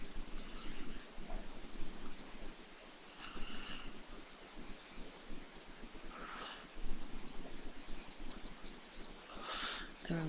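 A computer mouse clicks while someone works in Photoshop, giving sparse, light, faint clicks scattered over a soft background hiss.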